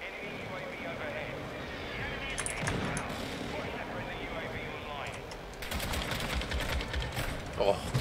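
Rapid automatic gunfire from a gun in Call of Duty: Modern Warfare II comes in two bursts, one short and one longer, with a person talking throughout.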